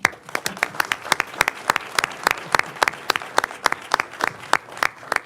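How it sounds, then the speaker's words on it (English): A small audience at a county commissioners' business meeting claps in a round of applause, with many sharp, irregular hand claps blending steadily for several seconds, moderately close and without talk. "I think you deserve a round of applause."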